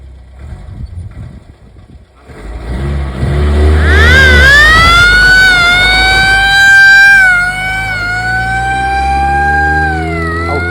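An old military truck with suicide doors, in the Alps, idles and then drives away as a loud, shrill wailing siren starts up and sweeps in pitch, dominating the scene.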